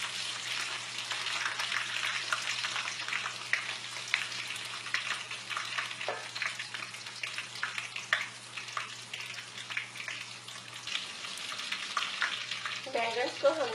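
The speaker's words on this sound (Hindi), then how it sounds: "बैंगन को हमने मीडियम आंच पर फ्राई कर लिया है।" Eggplant deep-fries in oil over medium heat, giving a steady close sizzle and crackle that runs throughout without pause, with a little stirring and no talk.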